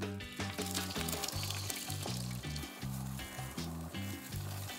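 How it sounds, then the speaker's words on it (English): Onions cooking on a grill pan greased with olive oil, giving a soft, steady sizzle under a louder rhythmic musical backing, fairly faint and even. "Let's cook our onions next."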